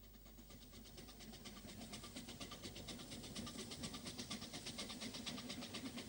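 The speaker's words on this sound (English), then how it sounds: "Linda, double-heading with Mountaineer, leads the train into the small station." Two narrow-gauge Ffestiniog Railway steam locomotives, Linda double-heading with Mountaineer, bring a train into a small station. Rhythmic chuffing and rail clatter build gradually, faint and at a distance.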